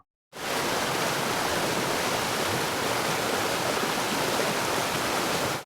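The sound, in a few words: strong muddy river current after heavy rain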